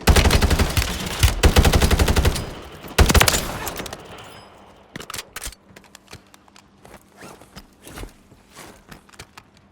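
Gunfire in the shooter game Warzone: a dense burst of rapid automatic fire up front, a second burst around three seconds, then scattered single shots and softer distant pops over quieter footsteps.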